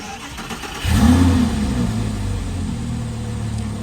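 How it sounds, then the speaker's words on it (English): An Audi R8 V10 engine starts after an ECU flash: a short crank, a loud catch and rev flare, then it settles into a steady, close rumbling idle. "now we're going to start the car"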